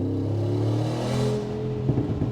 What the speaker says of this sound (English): The pops and bangs, the software on this car is crazy good.